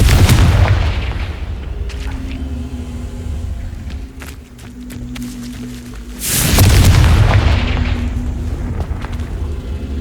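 A Confringo spell explodes in the Hogwarts Legacy video game: a heavy, loud boom opens, a rumbling tail fades over several seconds, then a second deep blast hits about six seconds in and rumbles on.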